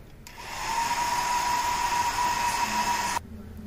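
A hair-dryer-style blower drying an HPTLC chromatography plate in a lab, switching on with a steady loud whirring whine that holds for about three seconds and then cuts off abruptly.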